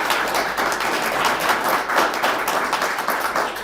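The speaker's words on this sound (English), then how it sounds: "If we could all give a round of applause to Tabitha." An audience at a veterans town hall gives a steady round of applause for a retiring Air Force member, dense clapping from many hands filling the room at a constant level.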